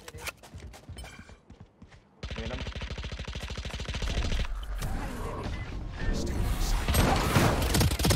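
Rapid automatic gunfire from the video game Valorant, with a loud, dense stream of shots running almost continuously after a brief quieter opening and building slightly toward the end.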